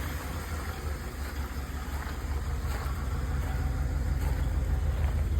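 A Chevy box truck idles steadily after a mechanical fuel pump change, a close, continuous low engine rumble with no talk.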